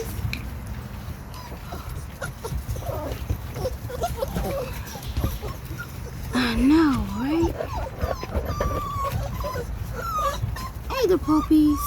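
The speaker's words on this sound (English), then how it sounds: "Hey, the puppies." XL American Bully puppies, about seven weeks old, whimper and yip outdoors in a run of short whines and a few barks, mixed with people talking nearby.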